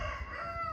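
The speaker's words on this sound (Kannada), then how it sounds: "ಇದೊಂದು ಕೋಳಿ, ಇದು ಚಿಕ್ಕಂದು ಕೋಳಿದು" A rooster at a rural family home, where cockfighting preparations are under way, gives a single short burst of its crow that fills the clip, close and fairly loud.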